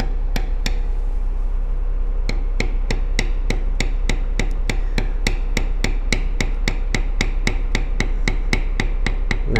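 A leather beveling tool is struck steadily with a mallet while tooling a belt pattern, producing sharp, evenly spaced taps in a fast continuous rhythm, close and clear with no talking.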